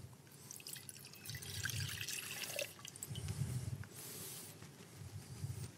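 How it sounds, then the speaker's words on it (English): Water being poured into a glass beaker while 500 ml of 1M hydrochloric acid is prepared in a lab, heard as a steady, close trickle and splash with dripping sounds and no talk. "So let's start by adding 207 mils of water to the beaker."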